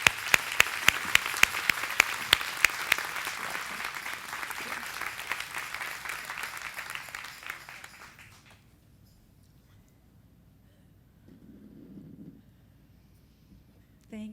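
An audience breaks into sustained applause welcoming a speaker at a spiritual gathering. The clapping is loud and dense for about eight seconds with sharp individual claps up front, then stops abruptly, leaving a quiet room and a brief low murmur.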